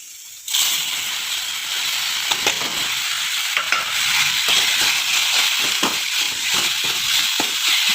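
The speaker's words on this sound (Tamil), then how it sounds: "நல்லா வதக்கி விட்டுக்கிறோம்" Mashed tomato and brinjal hit a pan of browned onion and burst into a loud, steady sizzle close by, with scattered scraping stir strokes over the hiss and no voices.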